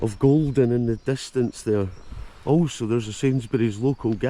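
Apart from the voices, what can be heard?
None of the usual background noises is heard.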